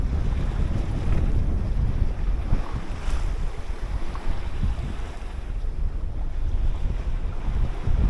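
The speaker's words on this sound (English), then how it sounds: "There's Wave Rover under full working sail. So currently we're making about 5 knots." A 21 ft home-built sailboat under full working sail at about 5 knots on a solo Atlantic crossing, heard as a continuous rush of wind buffeting the microphone over sloshing waves and hull noise, with no voices.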